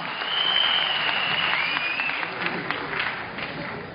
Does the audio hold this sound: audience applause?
yes